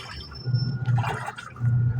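A Whirlpool automatic washing machine churns its load with water, giving low sloshing surges in bursts with splashy swishes between them, fairly close.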